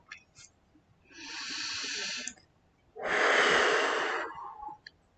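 A slow, deep breath taken during a French-language EFT tapping session, heard as two long airy breaths, a steady inhale followed by a stronger exhale, close and alone with no talk.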